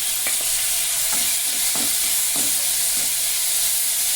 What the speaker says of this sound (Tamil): தக்காளி அதில் போட்டு அதையும் நல்லா வதக்கணும்